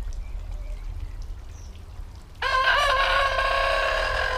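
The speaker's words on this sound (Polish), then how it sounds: "Poznajcie koguta, który mnie rano budzi." After a quiet outdoor stretch, a rooster bursts into one loud, long crow nearby. The crow rings out strongly and carries on to the end.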